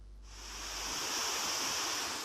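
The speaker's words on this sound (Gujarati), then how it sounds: "ચેકડેમમાંથી વહી રહેલા પાણીના વહેણે વાવર ગામને મુશ્કેલીમાં મૂક્યું" Floodwater rushes over a check dam near a village after monsoon rains, a broad continuous roar that rises in from near silence and holds steady.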